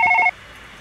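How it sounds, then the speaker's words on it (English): A telephone rings in a dark horror video game, a short electronic double-trill burst that cuts off abruptly after a fraction of a second, close and clear with no talk. "Who was that on the phone?"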